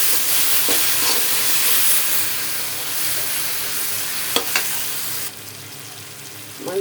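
Garlic sizzles and fries steadily in a hot pan while pirandai rasam is being cooked, a continuous close crackling hiss with a few brief louder pops and stirring clinks toward the end.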